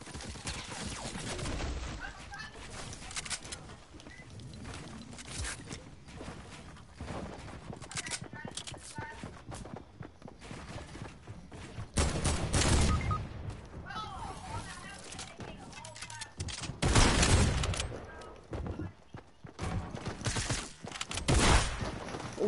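Rapid gunfire in a shooter video game, repeated bursts and single shots clustering into heavier volleys, mixed with game effects while a player talks over it.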